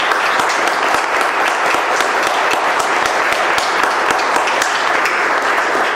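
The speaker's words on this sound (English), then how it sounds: "I'd just like to give a round of applause to all those volunteers" An audience at a yoga psychology workshop gives volunteers a round of applause, with dense, steady clapping that stays loud and even from start to finish.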